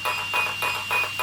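Rapid repeated electronic beeps from a Team Corally Kagama RC car's ESC during setup, a steady pulsing chirp pattern of about four bursts in just over a second, close and clear with no talking.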